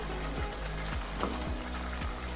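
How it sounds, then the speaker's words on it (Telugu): Steady, close sizzling as paneer pieces hit hot frying masala in oil, a constant bright hiss with faint rhythmic scraping of a spoon stirring, no voices. "ఇప్పుడు మనము ఇందులోకి పన్నీర్ ముక్కలు వేసుకోవాలి।"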